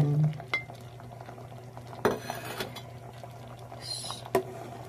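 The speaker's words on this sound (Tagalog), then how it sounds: "konting halo lang po natin sa ating itlog dito, guys" A spoon stirs egg into a thick, simmering corn soup in a home kitchen, with a few soft scrapes and clinks against the pot over a low hum of cooking.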